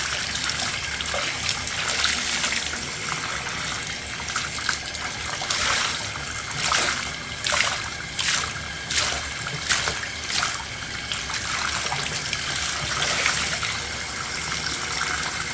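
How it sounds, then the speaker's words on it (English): Water runs steadily over a filter being rinsed clean during maintenance of an Amway ClearTrak/WMJ Workhorse vacuum, a continuous close splashing flow with slight surges. "just rinse it until the water runs clear"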